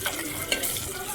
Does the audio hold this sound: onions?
yes